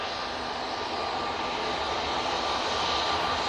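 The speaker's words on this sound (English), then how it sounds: "SAS A320neo now coming on." An SAS Airbus A320neo airliner passes at Manchester Airport, its engine roar a steady, loud broadband rush that holds constant and swells slightly toward the end, with no talk.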